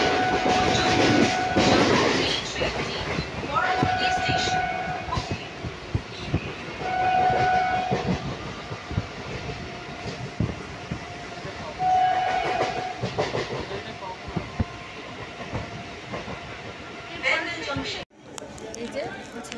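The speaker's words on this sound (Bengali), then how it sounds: "ট্রেন যাচ্ছে" A passenger train bound for Bandel rumbles and clatters steadily along the rails for the whole stretch, with a few long horn tones sounding at intervals and voices murmuring throughout the carriage.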